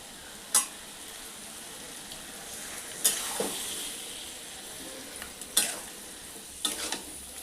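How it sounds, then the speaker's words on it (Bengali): A little water added to red, well-fried masala for a Bengali jackfruit curry (echor kalia) sets off a steady hiss and sizzle in the pan, broken by a few sharp clanks and scrapes of a stirring spoon, with no talking. "এবার আমি উপরে জলটা অ্যাড করছি"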